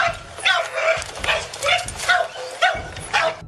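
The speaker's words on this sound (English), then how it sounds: "they could hear the sounds of barking dogs" Several dogs kept in cages at a house where a dog fighting ring was run bark and yip in repeated bursts, fairly close and loud, with some whimpering between barks and a low rumble underneath.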